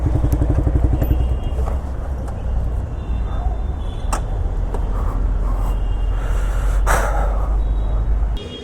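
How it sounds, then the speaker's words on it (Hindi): A motorcycle's engine rumbles close and steady at idle while it is parked near a metro station in Delhi, with a few clunks and thuds before the engine cuts off abruptly at the end. "यहाँ लगाते हैं बाइक को"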